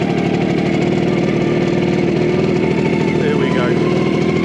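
A motorbike engine runs steadily in low first or second gear along a green lane near Leighton Bromswold, a close, continuous mid-pitched drone with someone talking over it.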